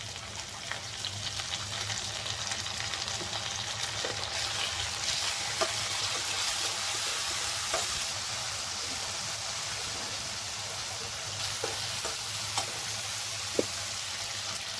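Ginger garlic paste frying in a pan while being stirred, a steady loud hiss and crackle with occasional scrapes, close and continuous throughout, no talking.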